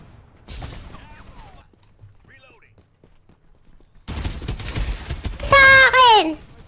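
Rapid bursts of video game gunfire crackle in a shooter match, loudest in a dense volley near the end, with players' voices talking between the shots.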